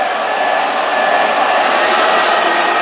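A hair dryer blows steadily and loudly at close range throughout while spaniel-style in-curl blow-drying is done on hair, a continuous even whoosh with no voices.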